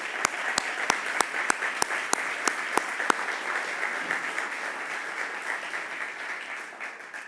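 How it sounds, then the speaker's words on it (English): An audience at an energy-industry keynote address applauds, broad, moderately distant clapping with a few sharp, evenly spaced claps standing out early before the applause gradually fades. "Let's give them a round of applause for all they've accomplished and the legacy that they're building"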